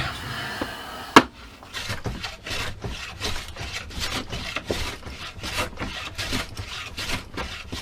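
A hand plane shaves down a small piece of wood for a fridge magnet in a workshop, making quick, steady back-and-forth rasping strokes after one sharp knock near the start, with no talking.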